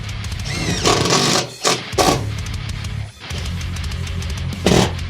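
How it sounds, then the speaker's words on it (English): A power drill drives tech screws into a new car floor panel, with bursts of loud whirring and grinding broken by short pauses between screws, close and alone. "Alright, so now I'm just tech screwing this floor in place"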